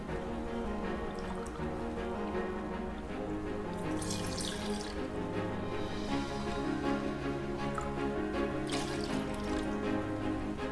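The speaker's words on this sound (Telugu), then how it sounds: "ఇందులో సుమారు కప్పున్నర వాటర్ను వేసుకోవాలండి" About a cup and a half of water pours into a cooking bowl in short splashing bursts, heard faintly beneath steady background music.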